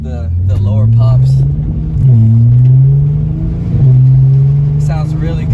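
Mercedes-Benz C43 AMG track edition exhaust drones loudly under light throttle, its note rising and dipping with small pops and crackles in between, heard up close in a continuous run.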